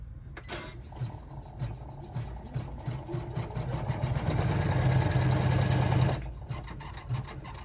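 A sewing machine stitches continuously while a second zipper is sewn onto a small rucksack, its steady mechanical whir rising in speed and loudness before stopping abruptly near the end, with quieter handling afterward.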